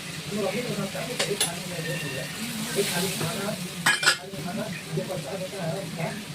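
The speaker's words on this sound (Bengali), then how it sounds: "এখন যে মশলাটা বানিয়েছিলাম আদা দিয়ে, কাঁচা লঙ্কা, রসুন দিয়ে, এবার এটাকে ঢেলে দেবো" Ginger, green chilli and garlic paste going into a hot pan for a catla fish kalia, with sizzling, stirring and a few metal clinks against the pan.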